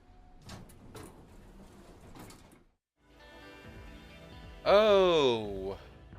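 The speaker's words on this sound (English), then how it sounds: "Now the door should open." A sliding door opens in the Digimon Story Cyber Sleuth video game, a sustained mechanical whir that rises to a loud, tonal rushing swell near the end, after a voice speaks briefly at the start.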